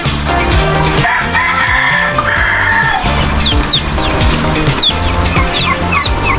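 Busy poultry yard with chicken chicks and hens clucking and peeping continuously, occasional higher chirps over a steady dense flock murmur, during rainy weather.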